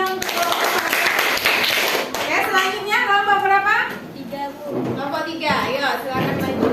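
A school class applauding in a classroom, with dense, fast clapping and tapping under overlapping children's voices and chatter, fairly loud and continuous throughout.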